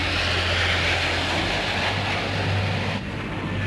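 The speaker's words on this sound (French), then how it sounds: "Les 183 avions de la première vague de la force de frappe israélienne décollent." Israeli military jet airplanes taking off at dawn in June 1967, a loud continuous engine roar with a steady low drone that dips slightly near the end, with no voices.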